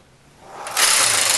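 Knitting machine carriage sliding across the bed knitting rows of waffle stitch, a smooth rising whirring rasp that grows louder and steadies, close and alone.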